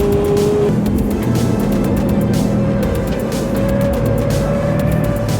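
A Subaru accelerates hard on a road as a BMW tries to pass, loud sustained engine and road roar with a rising whine and rapid ticking texture, no talk.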